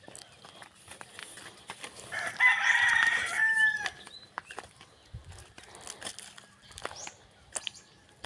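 A Rhode Island rooster crows loudly once, mid-clip, among quieter clucking of Rhode Island hens and scattered rustling on a farm.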